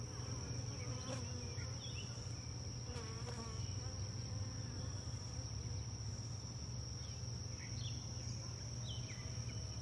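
Honeybees at a hive building comb, a dense continuous buzzing drone close to the listener, steady throughout with a few faint bird chirps in the background and no talk.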